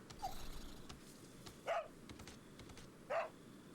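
A dog in the Resident Evil 4 demo gives two short, distinct barks about a second and a half apart, heard fairly clearly over quiet in-game music and background ambience.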